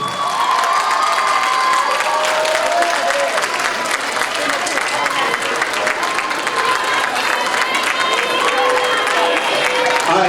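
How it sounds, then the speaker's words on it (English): Graduates at a university graduation celebration applaud and cheer loudly for their families, a continuous close roar of clapping mixed with whoops and shouting voices. "give your family, friends, grandma, grandpa, auntie, a round of applause"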